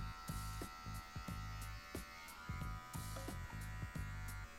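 Electric hair clippers buzz through a buzz cut, a steady close electric hum broken by short scraping strokes and clicks as the blade tip works along the head.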